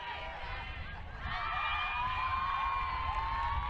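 Girls' lacrosse teams and supporters at an under-19 world cup match between England and Australia cheer and shout together, a steady, distant crowd roar swelling after a quieter start.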